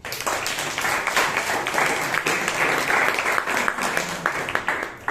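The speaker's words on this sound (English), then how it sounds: "Another round of applause to you" Audience applause at a Bangalore Toastmasters club meeting, many hands clapping steadily and densely for about five seconds, fairly loud and close, with no talk over it.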